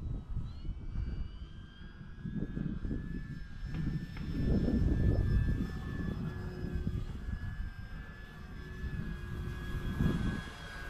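E-flite T-28 Trojan 1.2 m electric RC model airplane flying on a windy day, its motor whine rising and falling as it passes, with wind noise rumbling underneath.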